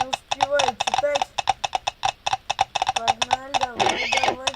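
A horse galloping in a video game, rapid rhythmic hoofbeats mixed with someone talking excitedly over the gameplay.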